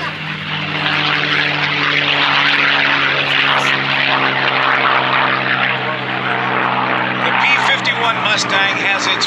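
A P-51 Mustang propeller fighter passes at an air show, its loud, continuous piston-engine drone and propeller roar filling the air steadily throughout, close and powerful.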